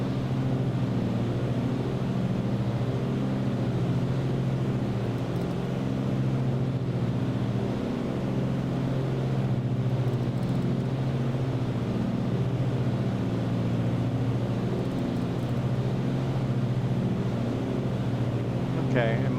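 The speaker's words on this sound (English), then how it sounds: "if I'm trying to blow the left engine, I should bring the throttle back on the right, or I'm going to blow both engines" A piston aircraft engine held under throttle in the flight simulator MSFS 2020 gives a steady, loud, close drone with a low harmonic hum. The sound runs unbroken throughout.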